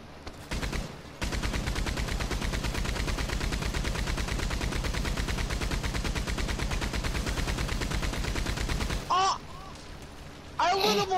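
Rapid automatic gunfire in a video game, a loud, steady stream of shots lasting about eight seconds, with people talking and shouting briefly before and after the burst.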